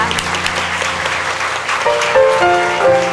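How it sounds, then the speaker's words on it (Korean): Church congregation applauding during a Thanksgiving worship service, dense clapping with some voices mixed in, followed by rising keyboard notes as music begins near the end. "하나님께 다시 한번 영광의 박수 올려드리겠습니다."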